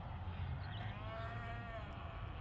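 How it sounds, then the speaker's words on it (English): Cows and calves on a farm calling out after being separated, one drawn-out bellow rising and falling over a steady low rumble of background noise, fairly faint and distant. "It's a little noisy out here. We had to separate the baby cows from the mama cows."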